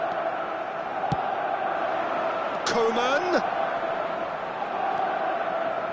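A football stadium crowd in a console video game roars as a steady, dense wash throughout, with a short swell of cheering in the middle while a commentator talks over it.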